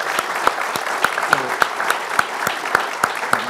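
Audience applause thanking a constitutional history speaker after a panel talk, a steady wash of many hands with a few sharper, louder claps standing out at regular intervals, fairly close and lively.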